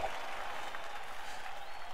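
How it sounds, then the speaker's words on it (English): A crowd claps in steady, continuous applause within the Wii Sports Club video game on Wii U, a dense, even wash of clapping at moderate volume with no voices over it. "Applause, stop, everyone. Stop applauding."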